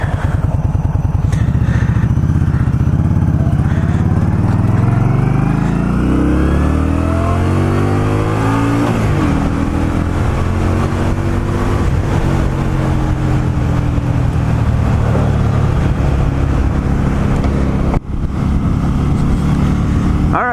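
A 2020 Indian Scout Bobber Sixty motorcycle rides and accelerates, its engine note climbing through the gears with rising revs and shifts, loud and close with wind rush, continuous for the whole stretch.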